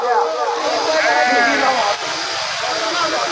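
Several sheep bleat at a crowded Balumama religious gathering, their wavering cries overlapping at close range over a dense, steady background din.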